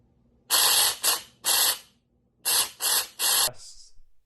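A small RC car electric motor and gearbox wired straight to the battery, running in six short whirring bursts of under a second each with brief pauses between, close and fairly loud, followed by a faint hiss.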